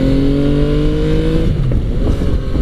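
A 2017 Yamaha FJ-09 engine hums loudly and steadily while riding, with a sustained tone that drops in pitch as the bike eases off, and wind noise beneath it.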